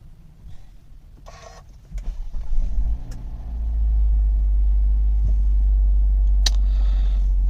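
A 2021 Hyundai Tucson 2.0 is switched on with its push start button: a few clicks and a brief whir, then a low engine rumble rises and settles into a steady idle close by.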